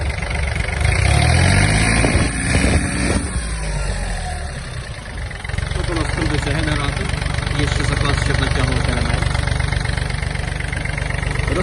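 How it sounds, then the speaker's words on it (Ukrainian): A Yanmar AF-24 Japanese mini tractor engine runs close by with a steady mechanical chug, its pitch shifting briefly as a voice talks over it. "Вихлоп трактора досить чесний."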